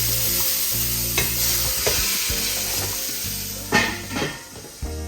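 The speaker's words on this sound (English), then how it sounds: "So this has been searing for about 4 to 5 minutes here" A venison shank sears in a hot pan with a steady, loud sizzle, broken by a few scraping stirs and bursts of hissing spatter, and no talking.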